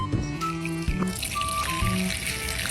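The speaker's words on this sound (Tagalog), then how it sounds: "tutunawin na natin siya gamit ang mainit na tubig" Hot water pouring onto chocolate in a kitchen to melt it, a continuous liquid trickle and splash lasting a few seconds with a faint tonal background.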